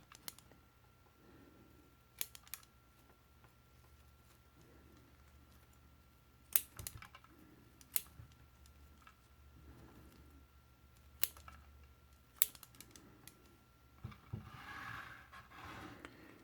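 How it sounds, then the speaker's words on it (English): Scissors trimming new side growth from lemon cypress branches, giving a faint scatter of sharp, isolated snips spaced irregularly over a quiet background, with a slightly louder rustle at the end. "Can do some trimming on these branches."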